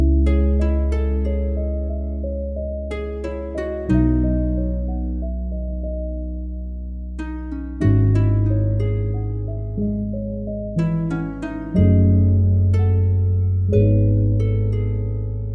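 A calm lo-fi hip hop beat layers plucked harp notes over soft sustained keys chords and a deep bass line, chords changing roughly every four seconds, steady and moderately loud with no drums.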